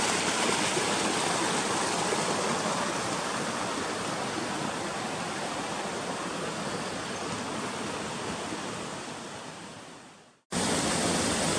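A stream rushes steadily over rocks at a water crossing in Young Gulch, Roosevelt National Forest, a loud continuous flowing roar close by, breaking off abruptly near the end and then resuming.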